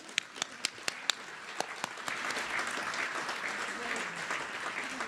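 An audience applauds a singer taking the stage at a celebration event, starting with a few sharp, separate claps that quickly swell into steady, dense clapping filling the room.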